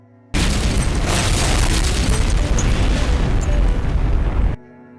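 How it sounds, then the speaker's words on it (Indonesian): A SpongeBob cartoon explosion sound effect bursts in as a loud, sustained roaring boom with rumbling debris noise, holding steady for about four seconds before cutting off abruptly. "Pastinya kalian tidak asing bukan sama ledakan itu?"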